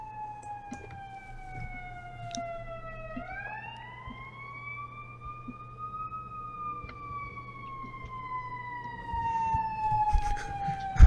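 An ambulance siren in a video game wails steadily with a slow rising and falling pitch, moderately loud over faint background game noise.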